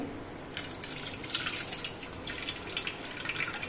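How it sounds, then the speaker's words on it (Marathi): Water splashes and trickles as sago pearls are swished and rinsed in a bowl, light irregular sloshing up close. "आपल्याला हा साबुदाणा धुवून टाकायचा आहे"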